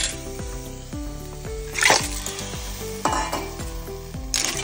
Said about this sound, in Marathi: कांदो आणि टमाट जशे बरे मोव जाले तशे तितून घालून घेऊया आमी तिसऱ्यो